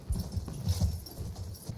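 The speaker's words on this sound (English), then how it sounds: "I'm on a horse" Horse hooves clip-clopping in the Battlefield 1 video game, a steady low rhythmic patter of repeated hoofbeats lasting under two seconds, moderately loud with no voices over it.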